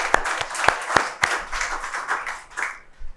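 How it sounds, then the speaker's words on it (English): An audience at a panel discussion session claps for a panelist. The applause is moderately loud, with a few sharp, distinct claps standing out near the start before it settles into a steady patter that fades toward the end. "Let us give him a round of applause."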